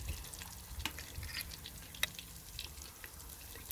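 Battered onion rings frying in oil that has cooled slightly, a steady soft sizzle with scattered crackles and pops throughout, fairly close, no talking.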